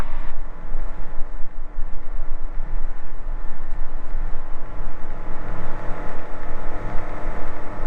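Small aircraft engine roaring steadily at high power during a takeoff roll on runway 34 of a sloping grass strip, loud and close with a continuous droning hum.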